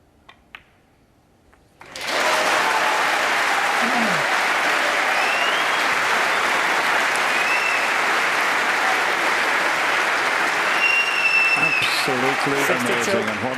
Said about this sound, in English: what a fantastic round of applause for just potting that red there